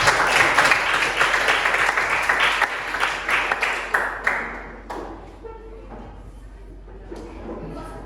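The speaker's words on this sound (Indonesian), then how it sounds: "Tepuk tangan dulu untuk kelompok" Classroom applause for a student discussion group in a lesson, a dense patter of clapping for about five seconds that thins and fades, with faint room noise and a few scattered claps trailing off.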